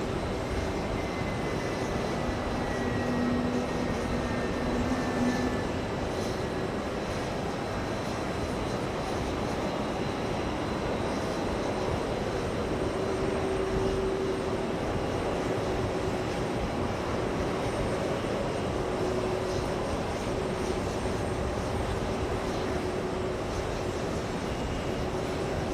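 Aircraft at JFK Airport give a steady, moderately loud jet rumble with faint tonal whines drifting through, unbroken and without talk.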